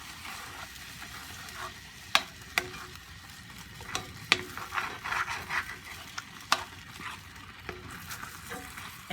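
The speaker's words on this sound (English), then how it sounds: "You got to keep stirring. Stir, stir, stir. Scrape the bottom and get the juicy good bits up off the bottom." Stroganoff being stirred and scraped in a pan, a steady low sizzle with repeated sharp utensil clinks and scrapes against the pan bottom, close and fairly quiet, no talking.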